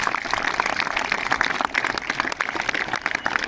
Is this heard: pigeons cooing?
no